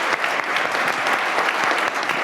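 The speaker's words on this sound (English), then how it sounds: "Can we give Sarah and Macy a big round of applause for their moderation?" An audience at a nonprofit community breakfast applauds panel moderators, with steady, close clapping from a room of people throughout.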